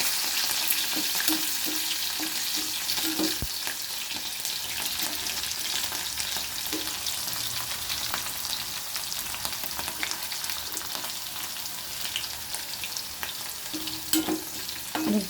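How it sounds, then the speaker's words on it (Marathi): Green chillies frying in hot oil with garlic for a fried okra dish, a loud, constant close sizzle with light spatter and a few stirring knocks throughout, no voices. "आता हिरवी मिरची टाकून घेते मी. हिरवी मिरची पण छान तळून घ्यायची."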